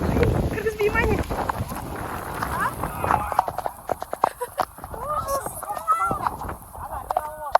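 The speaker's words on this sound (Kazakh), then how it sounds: "Жылқылар жүр мына жерде." Horses move nearby outdoors at night near Burabay, with scattered hoof clops and shuffling mixed with rooster-like clucks, while people talk over the sounds.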